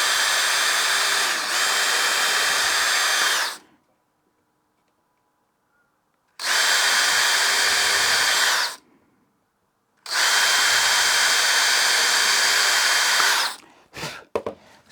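A power drill bores holes into a wooden board for a butt-jointed box, three long loud whining bursts separated by silences, ending with a few short clicks and knocks.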